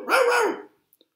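A single dog bark, close and fairly loud, heard alone and followed by a couple of faint clicks in an otherwise quiet room.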